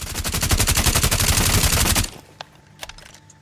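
Sustained automatic gunfire from Sledge's weapon in Rainbow Six Siege, a rapid loud burst of closely spaced shots lasting about two seconds, then cutting off to quiet with a couple of faint clicks and thuds.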